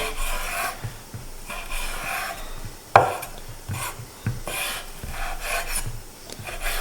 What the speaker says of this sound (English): prosciutto is here, so I'm just going to slice it